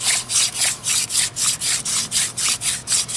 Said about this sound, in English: I'm having to generate more dust by drilling.